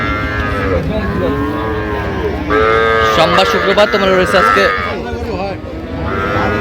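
Cows moo repeatedly at the Ambari cattle market in Dinajpur, their long, loud calls rising over a steady crowd of voices and nearby talk.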